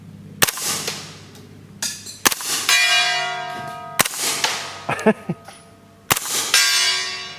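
Bullets from an HK MP5 9mm submachine gun strike a steel gong, giving four sharp metallic clangs, each followed by a long ringing decay, loud and close with quiet gaps between hits.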